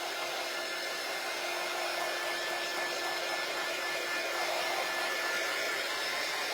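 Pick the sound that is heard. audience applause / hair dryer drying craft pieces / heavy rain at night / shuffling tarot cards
hair dryer drying craft pieces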